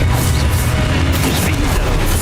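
The Expulso explosion spell bursts in Hogwarts Legacy as a loud, dense boom that fills the whole moment with heavy, rumbling blast noise.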